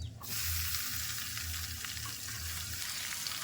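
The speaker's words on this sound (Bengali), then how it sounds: "পেঁয়াজ আর রসুনের পেস্টটা ভাজা হয়ে গেছে" Onion and garlic paste fries in oil in a pan while cooking a fish curry with wild taro stolons, giving a steady, soft sizzle with faint low stirring or handling noises.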